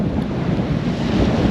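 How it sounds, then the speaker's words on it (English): Strong, steady gusting wind of around 30-40 mph roars across an exposed beach at Tunstall on the UK coast, with broadband buffeting noise and low rumbling surges that could be surf, loud and continuous with no speech. "it's absolutely 30-40 mile an hour winds, gusting"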